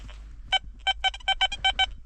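Metal detector over buried iron at an old cottage site gives a series of short, clipped electronic tone bursts, about eight quick beeps in an uneven rhythm, close and clear with faint ground noise between them.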